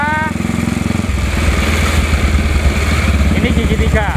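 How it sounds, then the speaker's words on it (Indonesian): A 1956 Norton ES2 350 cc single-cylinder motorcycle shifting through the gears while riding, a loud, close, deep engine thrum that changes pitch at a shift, with a voice speaking over it. "Suaranya cukup kenceng dan nyenengin, ngebas banget, khas banget Norton."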